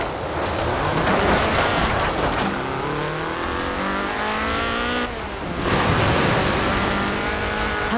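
A Ford RS 1800 rally car with a fuel-injected 1790cc Cosworth BDE engine revs hard in Forza Horizon 4, climbing through gears with rising whines, a brief lift around the midpoint, then loud acceleration again.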